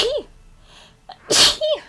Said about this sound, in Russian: Все, чихну.